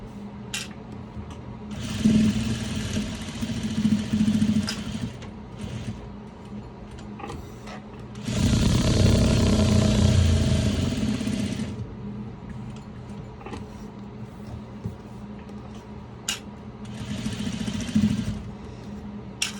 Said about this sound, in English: Another thing that's nice about this industrial sewing machine